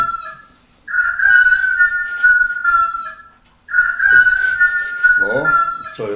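A rooster gives two long, loud, sustained crows in succession at a lively party, with brief voices and noise between and after the calls.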